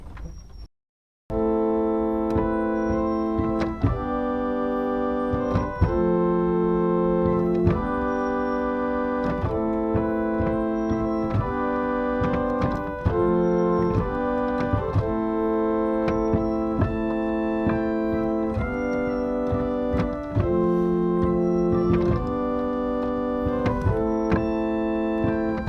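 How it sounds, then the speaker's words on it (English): The very quiet 8-foot dulciana stop of an 1871 Walker pipe organ in Moccas Church plays a slow sequence of sustained chords, smooth and mellow, heard alone after a brief silence. "The dulciana is a very quiet 8-foot stop."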